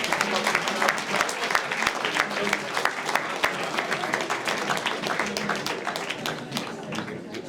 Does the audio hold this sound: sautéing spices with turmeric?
no